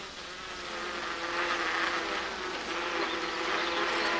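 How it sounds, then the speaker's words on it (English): Steady, dense insect buzzing runs throughout, moderately loud and close, like small bees busy at work on a farm, with no voices. "The tiny, busy bee is a very big help to the farmer"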